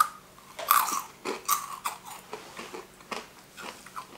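Crunchy bites and chewing of a crispy dried long bean snack, several sharp crunches in an irregular rhythm, close and fairly loud, with no talking.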